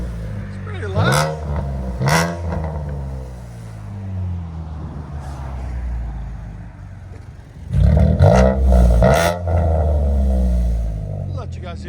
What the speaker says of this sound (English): Chevy Camaro RS V6 with a SPEC-D tuning exhaust.